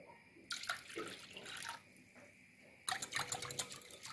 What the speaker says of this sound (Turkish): 2 su bardağı ılık suyu tabağımıza alıyoruz